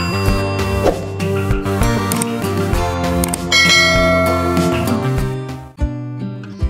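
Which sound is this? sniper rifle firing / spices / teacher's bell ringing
teacher's bell ringing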